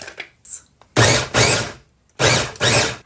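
Food processor mincing roughly chopped onions, two pairs of loud whirring pulses, each burst a couple of seconds long with short gaps between, close and alone.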